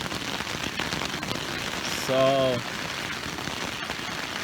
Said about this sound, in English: this is a downpour and it's working very well